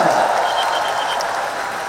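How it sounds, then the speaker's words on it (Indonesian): Brief, fairly loud applause from the audience for a guest at a live event, a steady wash of clapping with the host's voice faintly under it. "Boleh tepuk tangan lagi yang meriah buat Mas Gibran."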